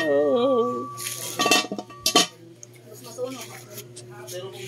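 A large cooking pot and dishes clank and clink in a home kitchen, with a few sharp metallic knocks bunched together midway. People talk over and around the clatter.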